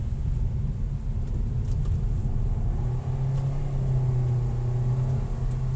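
A 2025 Toyota Veloz in sport manual mode pulls up a twisty road, its engine a steady close rumble with a tone that climbs as it accelerates, all inside the cabin.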